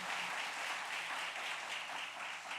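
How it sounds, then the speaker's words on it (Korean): At a Sunday morning church service, the congregation applauds after a saxophone performance with continuous, even, thick clapping from many hands, with no pauses and no voices. "참 감사하다고 박수 한번 해주시기 바랍니다."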